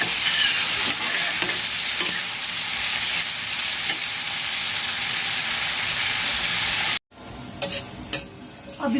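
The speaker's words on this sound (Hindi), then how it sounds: "अब इसको ऐसे ही चलाते रहेंगे थोड़ी थोड़ी देर में।" Spices with coriander powder fry and sizzle in a pan while being stirred, a continuous bright hiss with scraping strokes, then a brief cut and quieter stirring clatter near the end.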